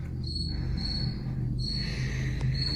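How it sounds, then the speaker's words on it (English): Crickets chirp steadily in short, high, ringing bursts that repeat at a regular pace, close and clear over a low background hum, with no voices. "Sounds like you, sir, got a cricket."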